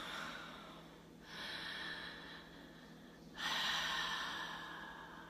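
Slow, deep breaths during a meditation exercise, two long airy inhales or exhales rising out of a quiet room hum, close and soft with no talking.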